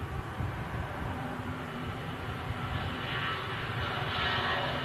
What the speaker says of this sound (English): And rolling on the way out to Munich, A320 from Lufthansa